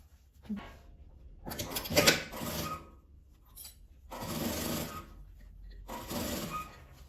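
Sewing machine stitching fabric scraps together in bursts of rapid mechanical whirring, three or four runs separated by short pauses, close up and moderately loud, with no talking.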